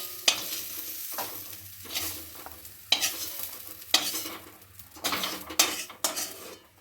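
Onions fry in a pan for an egg curry while a metal utensil scrapes and clinks against the pan in repeated stirring strokes over a continuous sizzle. There is no talking.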